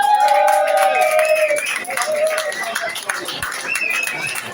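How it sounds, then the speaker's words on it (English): A pub crowd at a Monday Club night in The Cavern Pub claps loudly for a poet, mixed with whoops and voices, the clapping staying dense for a few seconds before thinning slightly. "I want you to give a massive round of applause and then be quiet for the Birkenhead poet"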